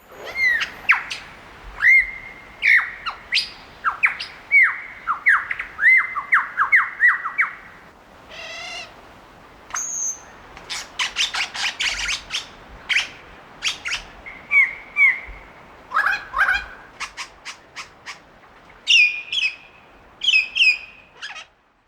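A superb lyrebird calls at length in the forest, a rapid run of loud, varied squawks, chirps, whistles and mimicked notes from other birds, close and clear with brief pauses between phrases and no talk.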